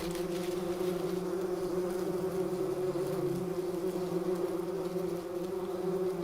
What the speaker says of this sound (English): Bumblebee colonies are characterized by a strict division of labor.